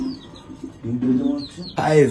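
Pigeons in a colony cage give short chirps and soft coos in quick bursts, close and fairly loud, with a person talking over them.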